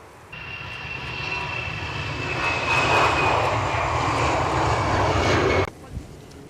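An EasyJet jet airliner roars out of Edinburgh Airport, a broad engine noise swelling steadily with a sustained whine, loud and fairly close before cutting off abruptly.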